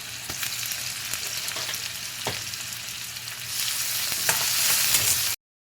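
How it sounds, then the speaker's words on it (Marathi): Cumin, mustard seeds, onion and tomato fry in hot oil, giving a steady close sizzle with stirring scrapes and a few sharp pops. The sizzle grows brighter and louder near the end, then cuts off abruptly. "हे जिरे थोडेसे घालते मोहरी घालते कांदा घालते टोमॅटो घालते"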